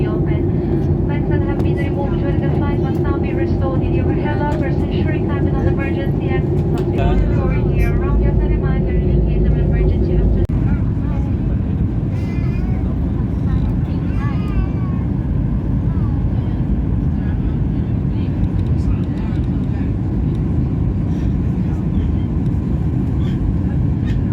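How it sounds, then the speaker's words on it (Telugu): Steady low roar of an airplane cabin after touchdown, with people chatting and moving around throughout. "ఇప్పుడు ఫ్లైట్ అయితే ల్యాండ్ అయిపోయింది"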